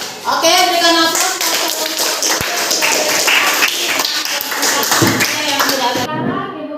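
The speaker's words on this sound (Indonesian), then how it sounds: "Oke, berikan aplaus." Students in a classroom applaud after a group presentation, a steady round of many hands clapping for several seconds with voices mixed in, ending abruptly.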